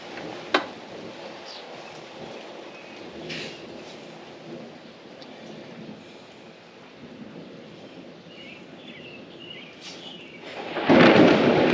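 During a storm, a sharp crack of thunder strikes early, followed by steady rain and rumbling. A louder burst of thunder and rain surges near the end.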